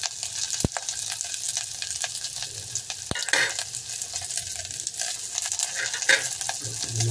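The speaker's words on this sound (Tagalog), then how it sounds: "Haluin na natin para malasa." Vegetables and garlic with salt are stirred in a hot pan, a steady low sizzle with scraping strokes and two sharp utensil knocks against the pan, no talking.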